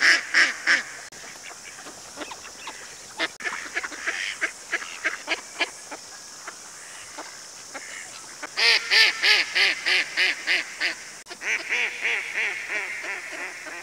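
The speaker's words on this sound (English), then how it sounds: "There's so many ducks in the water, and they thought we had food, so they start coming towards you" Ducks on the water at Mair Park in Whangarei, New Zealand, quacking in repeated close, rhythmic bursts with a dense run of calls in the second half.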